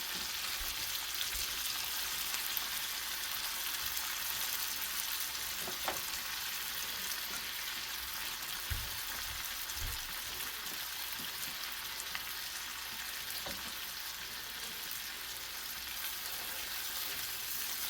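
Pheasant back mushrooms and onions frying in a pan, a continuous close sizzle and crackle with a few brief stirring knocks, steady and even from start to finish.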